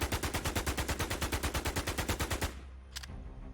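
Rapid automatic gunfire from an unmodified video game rifle with no attachments, a steady burst of about two dozen evenly spaced shots that stops abruptly, followed by a faint mechanical click.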